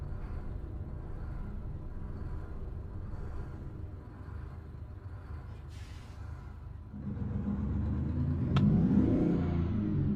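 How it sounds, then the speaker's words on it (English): In American Truck Simulator, a truck fitted with a NASCAR-style engine drones along at a steady rumble, then revs up louder and higher with a rising roar toward the end. "Sounds like a car engine. It sounds like a NASCAR."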